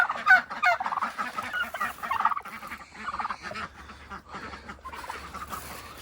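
Ducks and chickens crowd around a scattering of poultry pellets, loud, close and busy with overlapping quacks and clucks in a constant jumble, varying in intensity throughout.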